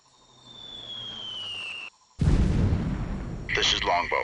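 Artillery fire for effect in Delta Force: Land Warrior, a heavy booming impact bursting in after a brief silence, with rumbling debris and scattered crackle that follow it, loud and close over a steady background drone.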